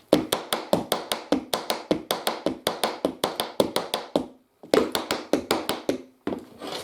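Tap dance steps with heel lifts and shuffles, a fast even run of crisp metallic taps, close and loud, broken by a short pause before the rhythm picks up again.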